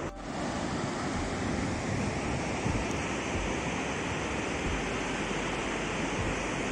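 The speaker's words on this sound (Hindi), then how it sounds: "तो पानी है, मतलब जो हिल्स में बर्फ पिघलती है उसका पानी" Meltwater stream from melting snow in the Himachal hills near Kugti, a constant loud rushing of water, dense and unbroken like close whitewater, with no talk.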